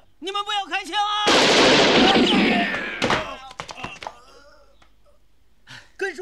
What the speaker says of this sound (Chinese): 根叔跟拳头都被警察打中了